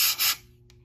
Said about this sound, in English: activate the smoke detector by just spraying some smokes